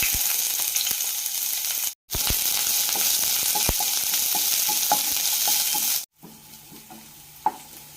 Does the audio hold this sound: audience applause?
no